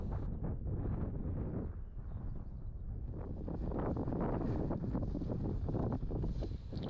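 Strong wind buffets the microphone near the top of High Wether Howe in the Lake District fells, a continuous low roar that rises and falls slightly, with no one speaking.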